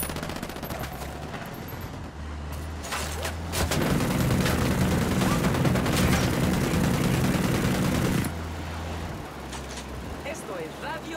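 Sustained gunfire rattles through a firefight in the open-world shooter Ghost Recon Wildlands. A dense burst of automatic shots runs for several seconds over a steady engine-like background hum, then drops back to the quieter ambience.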